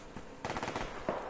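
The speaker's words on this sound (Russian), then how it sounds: "по мне же шмаляют со всех сторон" Rapid machine gun fire in the video game Survarium, a quick burst of several close shots followed by another lone shot.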